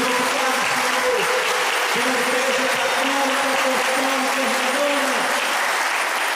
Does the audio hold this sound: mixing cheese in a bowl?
no